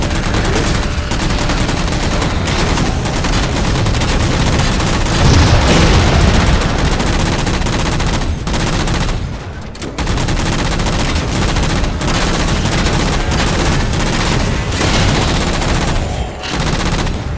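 A chain gun in Halo 4 fires in long sustained bursts, dense rapid rattling at high loudness, with a brief pause near the middle before firing resumes, no talking.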